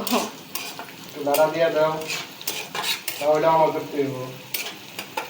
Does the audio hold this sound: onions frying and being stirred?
yes